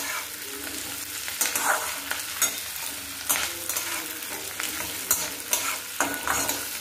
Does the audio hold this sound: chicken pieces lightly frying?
yes